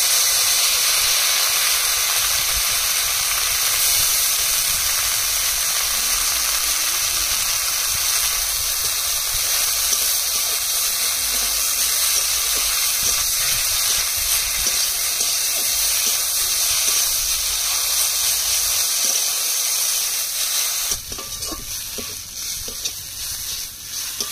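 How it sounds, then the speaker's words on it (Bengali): Acacia and pomegranate leaves frying in a pan with a little turmeric and salt, a loud continuous sizzle and hiss with stirring, quieting and turning choppier near the end. "পাতাগুলো দিয়ে 2 মিনিট ভেজে নিয়েছি"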